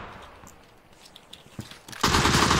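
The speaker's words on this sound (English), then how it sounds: "Keep shooting, keep shooting." Video game gunfire in PlayerUnknown's Battlegrounds: a few faint scattered shots give way to a loud, dense automatic burst that fills the last half-second.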